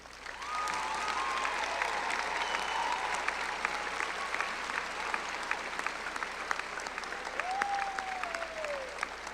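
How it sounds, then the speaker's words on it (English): A high school graduation audience gives a sustained round of applause for parents and families, with dense clapping and occasional whistles and cheers rising above it. The applause continues throughout without any speech over it. "Please join me in giving our parents and families a round of applause"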